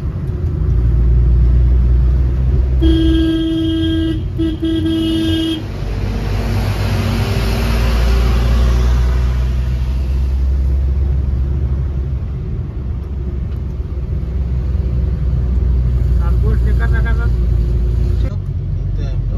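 A car climbs a narrow single-lane ghat road toward Mahabaleshwar, its engine and tyre rumble steady and close for the whole stretch, with a brief tonal sound early on and people talking over it.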